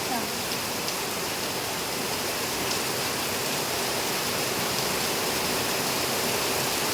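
Heavy rain pours down in a steady, dense roar, close and unbroken throughout, with no distinct drops standing out.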